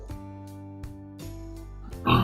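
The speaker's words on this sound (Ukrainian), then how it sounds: "Так що так ось сидять поросятка чи свині." Piglets and pigs grunt and oink in short nasal bursts close by, ending with a louder squealing snort.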